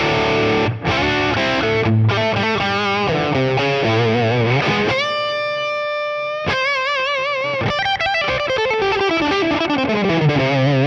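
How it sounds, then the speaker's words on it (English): Distorted electric guitar through a Two Notes Genome amp modeler with studio reverb added, playing sustained chords and melodic bends with a wet, spacious tail, loud and continuous with no talking. "Let's add maybe a little bit of reverb in. We have a studio reverb."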